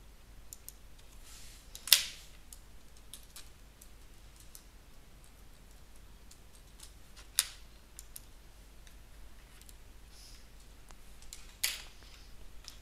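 Keys clicking softly as a password is typed on a computer keyboard, a quiet scatter of light ticks with a few sharper, louder taps standing out, no voices.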